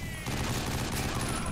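Rapid bursts of gunfire from the 50 Cent: Blood on the Sand video game, a loud, dense rattle of repeated shots that kicks in after a brief quieter moment and keeps going without pause.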